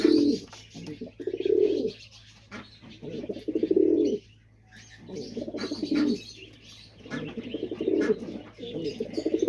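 Homing pigeons, including a brown-barred bird, coo repeatedly near the microphone in a loft, the low throaty calls rising and falling in several bursts with brief pauses, alongside faint chirps and occasional wing movement.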